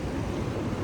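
A river along a mountain road in Ladakh, a continuous low rushing and churning of water, fairly faint and steady with some wind-like rumble and no voices.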